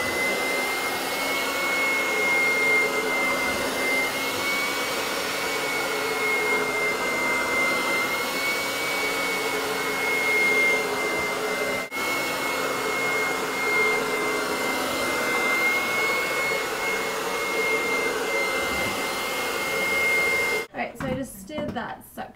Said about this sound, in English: so I turn on my blow dryer, and then I just kind of grab the hair and then pull it like that